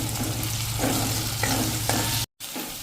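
Samosa filling mixture cooking in a pan over a slow flame, a steady close sizzle with scraping stirs every second or so, then a brief cut to silence before the sizzling resumes.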